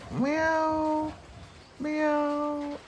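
A cat meows twice, with two long, clear, drawn-out calls of about a second each, separated by a short pause, close and fairly loud.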